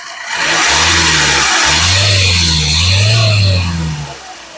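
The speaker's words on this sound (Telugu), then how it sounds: "ఒకసారి యాక్సిలేటరీ" A Hyundai Creta car engine revs up loudly from a steady hum, rising and falling in pitch a couple of times before easing back down.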